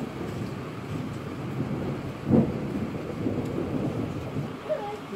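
Heavy rain pours steadily in the south of Russia, a dense, even hiss of downpour close by with a slightly louder gust of noise midway, no voices.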